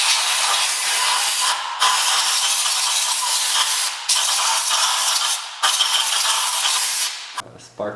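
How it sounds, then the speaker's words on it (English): Long, loud bursts of compressed air hissing in steady blasts, separated by brief pauses, close to the microphone, sprayed into the engine area of a 1.4L Chevy Cruze during a valve cover replacement. "I'm going to just spray out this entire area with compressed air"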